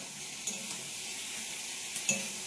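Chicken frying in a pan for an egg curry makes a quiet, steady sizzle, broken by a couple of faint clicks of a utensil against the pan.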